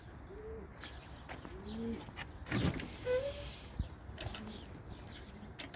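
Pigeons coo softly in a coop, a few low drawn-out calls spaced across a quiet background with occasional faint rustles and knocks.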